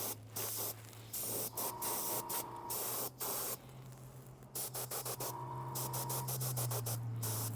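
Spray paint hisses in a string of short, choppy bursts onto a Battletech Mad Cat miniature, close and fairly loud, with a steady low mechanical hum running underneath.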